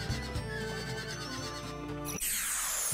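A horse whinnies in the video game Wild Arms 3, a loud rising-and-falling neigh over a busy game soundtrack, followed by a brighter burst of effect noise near the end.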